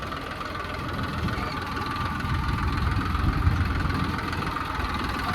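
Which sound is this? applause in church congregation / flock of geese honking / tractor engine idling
tractor engine idling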